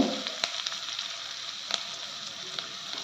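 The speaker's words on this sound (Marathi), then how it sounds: "थोडासा परतून घ्यायचा आहे झाला कांदा टमॅटो परतून झाला" Chopped onion and tomato sizzle and fry steadily in a pan for curd soup, a continuous crackling hiss with a few sharper pops and stirring clicks, no talking.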